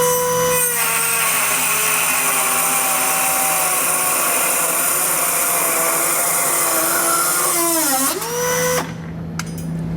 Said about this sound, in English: we're just going to take a Dremel tool and cut that off